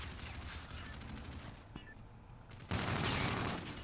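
Gunfire in a competitive online shooter match, a dense, continuous burst of shots and crackle that briefly drops away and then returns louder, with no voices heard.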